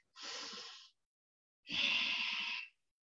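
Two slow, airy breaths in through both nostrils with the mouth closed during yoga, each lasting under a second, close and quiet with a pause between them.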